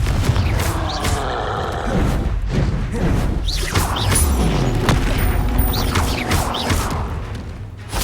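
Confringo blasting spells in Hogwarts Legacy, a series of heavy booming explosions and crashing impacts fired in quick succession over about eight seconds, loud and close with rumbling low end and no talking.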